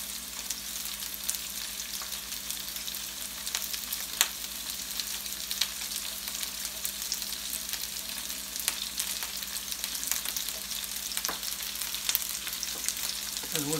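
Onions fry in a pan with bacon, a steady soft sizzle and crackle running evenly throughout with occasional small pops, no voices.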